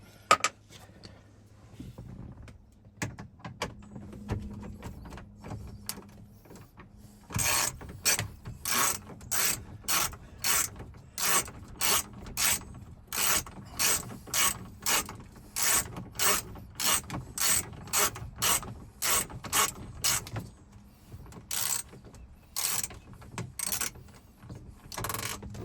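A ratchet loosens 10mm screws holding the radio in a 2014–2021 Toyota Tundra, first with quiet fumbling, then long runs of quick, sharp clicks in steady bursts, close up with nobody speaking.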